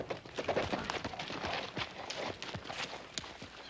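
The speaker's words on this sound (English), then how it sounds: "Little Joe, why don't you see after Miss Edwards' horse while I help her down?" Horse hooves clip-clop steadily as a rider arrives in a Western ranch scene, a close, even rhythm of many sharp strikes running through the whole stretch, with faint voices in the background.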